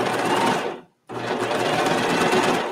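Serger sewing machine running steadily while stitching and trimming fabric layers, a loud continuous mechanical whir that stops briefly for under a second and then starts up again, with no talk.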